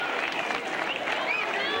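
Steady applause and crowd noise from a packed stadium during a tense fifth set of a US Open men's tennis match, Sampras versus Rusedski, at a dramatic evening session, sustained and fairly even throughout.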